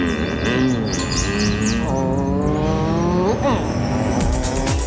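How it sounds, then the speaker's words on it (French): A Pontiac Sunfire GTO with a 120-horsepower engine and rear spoiler drives past, its engine note rising and falling with gear changes and a brief tire squeal, loud and close throughout, with faint chirps above and a backing track underneath. "Conduire la Sunfire GTO de Pontiac avec son moteur de 120 chevaux et son aileron arrière est une expérience unique."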